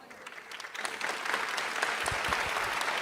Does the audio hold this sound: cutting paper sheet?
no